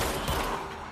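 Gunfire in the video game Control crackles as a dense, noisy burst of shots, loud and close, fading slightly toward the end.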